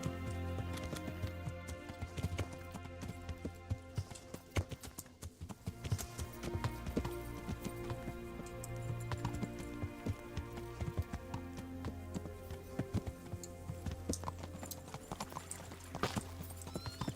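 Horse hooves clip-clop steadily in Kingdom Come: Deliverance, a medieval game, with occasional whinnies over a dense musical and ambient backdrop throughout.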